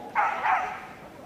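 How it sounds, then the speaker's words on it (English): An old rescue Kelpie barks during a medium agility singles heat at Crufts 2017, giving a brief yap-like bark at moderate distance over arena ambience. "cheeky rescue dog, barks her way round the finale for Zoom"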